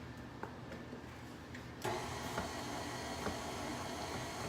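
An electric kitchen mixer switches on at its low setting and runs with a steady, even whir while cookie batter is mixed, fairly quiet and with no one talking.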